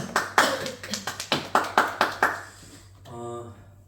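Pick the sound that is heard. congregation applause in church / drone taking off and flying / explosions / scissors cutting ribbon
congregation applause in church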